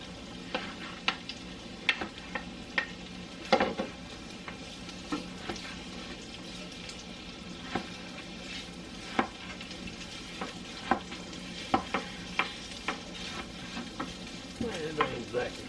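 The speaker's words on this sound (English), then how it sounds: "Put the onions in now." Onions sizzling in a hot pan while a utensil stirs and scrapes them, giving a steady fry hiss with irregular clicks and taps from the stirring, moderately close and without talk.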